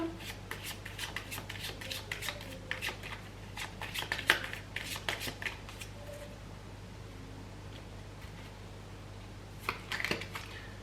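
A deck of oracle cards is shuffled close by, with soft flurries of riffling and slapping in short bursts across the clip, fairly faint over a low steady hum and a quiet voice.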